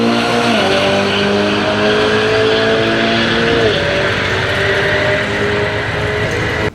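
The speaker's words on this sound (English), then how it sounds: "this is the 488 running down the drag strip" A Ferrari 488 GTB running hard down a drag strip roars loud and close in one continuous wide-open pull, with clear upshifts breaking the steady engine howl.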